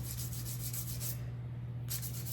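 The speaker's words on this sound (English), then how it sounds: "I'm going to play around a little bit here with the hand sanding." Copper band being sanded by hand: steady, rhythmic rasping strokes, close and fairly quiet, with a constant low hum beneath.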